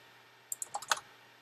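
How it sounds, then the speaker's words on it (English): Typing on a computer keyboard into a text field, a quick burst of about six light clicks, close and faint, against a quiet background. "you can see as I'm typing within the text field"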